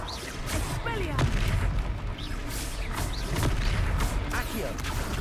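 The Expelliarmus spell is cast in the Hogwarts Legacy video game, a loud burst of magical whooshes and booming impacts amid dense, busy battle effects.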